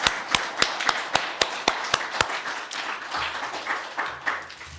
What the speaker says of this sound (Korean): 우리 다시 한번 힘차게 하나님께 영광의 박수 올려드리겠습니다